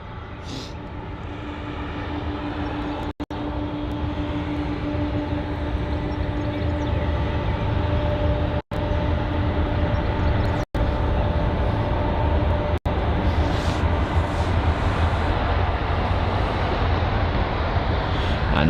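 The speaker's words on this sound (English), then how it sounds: "arriving from New York JFK, here is the American Airlines Boeing 777-300" An American Airlines Boeing 777-300 arrives at London Heathrow, its engines a broad, steady roar that holds loud and close throughout, broken by a few short cut-outs.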